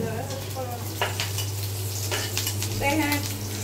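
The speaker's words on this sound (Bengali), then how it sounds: "মরিচ আর পেঁয়াজ ভাজা হয়ে গেছে, আর একটু হবে" Chilli and onion fry in a pan with a steady close sizzle, broken by scraping stirs and light clinks of a utensil against the pan, over a low background hum.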